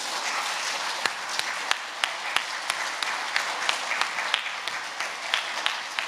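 School assembly audience applauding an award winner at a primary school final assembly, moderately loud sustained clapping with distinct individual hand claps standing out rhythmically from the crowd, no speech over it.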